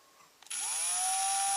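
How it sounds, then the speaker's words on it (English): A power drill with a 3mm bit bores a small pilot hole for a screw during a Donaldson pre-filter fix on an NT Pajero. The motor spins up after a short pause into a loud, steady high whine that rises slightly in pitch and holds, with no talk. "I'm going to drill a small pilot hole in to make it easier for the screw to get through."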